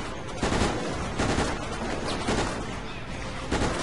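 Rapid gunfire aimed at zombies in the video game Resident Evil: Operation Raccoon City, as dense overlapping bursts that run loud and nearly continuous, with sharper peaks recurring throughout.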